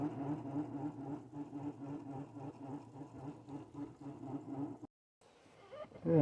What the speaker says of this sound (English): I'm going to roll it back up onto the spool, see how that goes. A little noisy